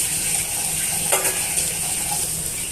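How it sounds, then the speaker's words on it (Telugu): Okra sizzles and fries steadily in a pan as crushed garlic goes in, with a soft stir or clink partway through. "ఇప్పుడు మనం ఇందులోకి పచ్చా పచ్చగా దంచి పెట్టుకున్న తెల్లగడ్డను వేస్తున్నానండి"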